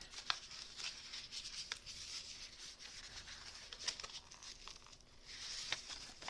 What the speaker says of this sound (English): I'm going to take this envelope and carefully open